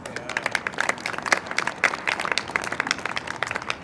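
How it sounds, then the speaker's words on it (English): An audience at a rally against domestic violence claps, a close, uneven patter of individual hand claps from a modest crowd, with sharp separate hits rising and falling throughout. "Clap if you agree with me."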